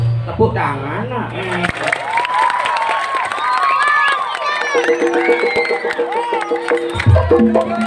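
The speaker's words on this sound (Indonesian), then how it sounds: "Tepuk tangan nak." A crowd claps and cheers at a Balinese Calonarang dance performance, loud and close, with shouting children and a hubbub of voices over the steady clapping and music.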